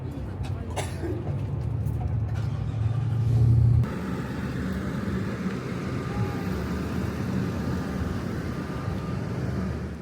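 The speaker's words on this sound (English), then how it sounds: "Made by a company called Bombardier. So this vehicle has tank-like track." Bombardier tracked snow coach with tank-like tracks driving over a glacier near Banff, a steady low engine rumble with a louder grinding surge early on, continuous throughout, with people talking faintly inside.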